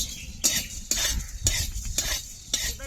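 Dry chili and black pepper roasting in a pan over a stove, with a spoon stirring and scraping the metal in sharp, repeated strokes over a soft background sizzle, close up and with no voices.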